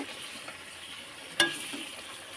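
Biryani masala being stirred in a pan, a soft continuous sizzle with light scraping and one sharp metallic clink of the spoon partway through, close and without speech.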